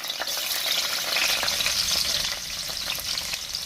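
Chopped onion hits hot bleached oil for a vegetable sauce, giving a loud, steady sizzle and crackle throughout, with faint stirring scrapes and no talking.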